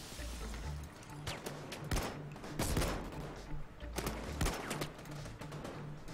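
Rapid gunfire bursts in a Payday 2 shootout, several sharp volleys and single shots cracking at moderate distance over a low rumbling game backdrop.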